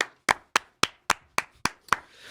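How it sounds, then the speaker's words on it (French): Eight crisp, evenly spaced hand claps ring out close and clear at a quick, steady pace, with no talking and a faint tail of noise after the last one. "ça, c'est exceptionnel. Et ça s'applaudit."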